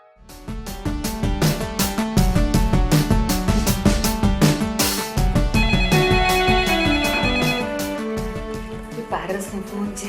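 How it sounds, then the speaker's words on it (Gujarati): A mobile phone ringtone plays a loud, steady, song-like melody for about ten seconds, with bright repeating electronic notes throughout. "પારસનો ફોન છે."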